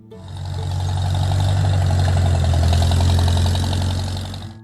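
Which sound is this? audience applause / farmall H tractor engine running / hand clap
farmall H tractor engine running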